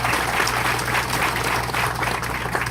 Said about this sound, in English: Let's give all our veterans a big round of applause for their service.